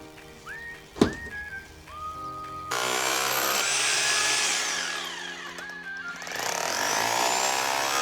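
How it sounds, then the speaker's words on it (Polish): A sledgehammer knocks down a wall with thick plaster. One sharp, loud strike is followed by a long, rushing crumble of falling debris, and whistling is heard early on. "Następnie weźmy sobie młot i wywalmy po prostu tą ścianę."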